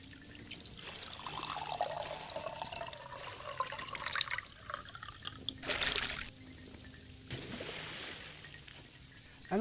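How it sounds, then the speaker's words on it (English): Water splashing and trickling as a player wades through water in Morrowind, steady liquid sloshing with a few louder bursts, moderately loud throughout with no talk. "And I add a mod that is adding water sounds. And the player is crossing fake water."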